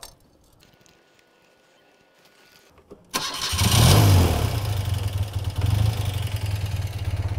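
A BMW R80 RT motorcycle engine, just dosed with engine flush, cranks after three seconds of near silence and catches, settling into a loud, steady, throbbing idle close by.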